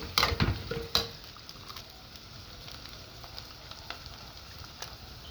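Liver fries in a pan for Egyptian shop-style kebda, with a few sharp clanks of stirring at the start giving way to a soft, steady sizzle.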